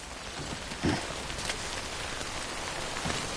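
Steady video-game rainfall patters on surfaces in a continuous hiss, with a few soft thuds standing out faintly.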